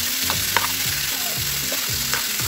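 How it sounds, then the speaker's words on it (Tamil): Chopped chayote (chow chow) sautéing in a hot pan, a steady close sizzle and crackle of frying with repeated scraping stirs of a spoon through the vegetables, no voices. "காயை ஆட் பண்ணிவிட்டு ஒரு 2 மினிட்ஸ் மட்டும் நல்லா வதக்கிக்கலாம்."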